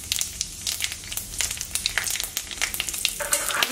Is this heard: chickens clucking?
no